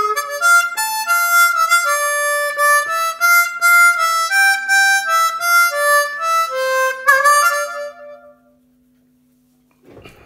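A harmonica lick played in third position, a lively run of bright reedy notes with bends and chords, close and loud for about eight seconds before fading to near silence.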